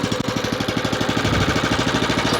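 A WEIMA walk-behind tractor's small engine runs just after starting, a loud, steady rapid putter of regular firing pulses close by with no talk.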